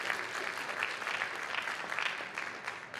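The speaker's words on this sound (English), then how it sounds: "Give him a round of applause, everybody." An audience claps at a closing ceremony, fairly faint and steady with a slightly uneven, pattering texture, continuous from start to end without talk.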